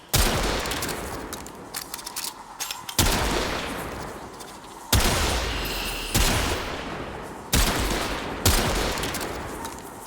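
Rapid gunfire in the video game Warframe, shooting Eidolon worms, with several loud bursts of shots at close range, each trailing off into echoing rumble before the next volley.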